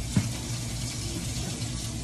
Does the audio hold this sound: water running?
yes